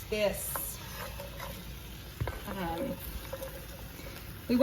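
Vegetables cooking in a pan for a chicken dish, a faint steady sizzle under a person talking, with a few soft stirring scrapes and a louder burst near the end.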